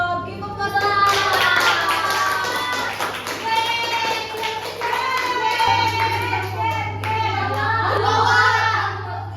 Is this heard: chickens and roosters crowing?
no